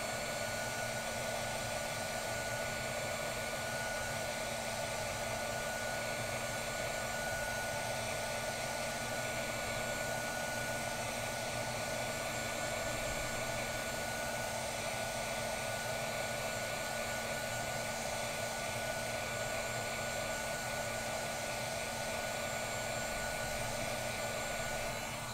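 A heat tool blows steadily to warm stamping foam, a constant, even whooshing hum that continues unbroken and fairly quiet for around twenty-five seconds.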